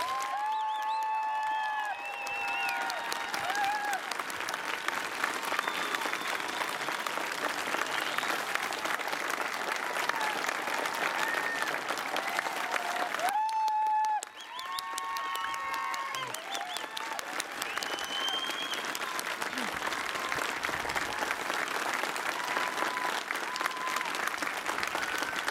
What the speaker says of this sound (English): Let's show them how we feel about them with one more round of heartfelt applause.